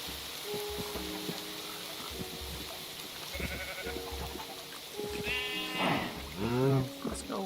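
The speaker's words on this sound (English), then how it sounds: "Oh, we're losing some sheep." Sheep bleat in a farming video game, several wavering bleats rising near the end over steady in-game background sound and faint music-like tones.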